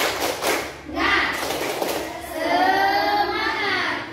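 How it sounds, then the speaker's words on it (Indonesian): A primary-school class in Indonesia does the 'tepuk semangat' spirit chant: a burst of close, rhythmic group clapping, then the children shout the chant loudly together. "kita tepuk semangat dulu supaya lebih semangat lagi"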